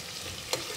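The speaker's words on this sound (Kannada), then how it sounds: "ಈರುಳ್ಳಿ ಸ್ವಲ್ಪ ಫ್ರೈ ಆಗಲಿ" Onions fry in a pan for ghee rice, a continuous soft sizzle close by with one brief clink or scrape partway through.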